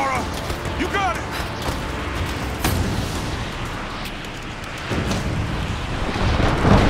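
Thunderstorm with lightning in the Rise of the Tomb Raider game, a steady wash of rain and rumbling storm noise with a sharp crack near the middle, while a voice cries out briefly near the start.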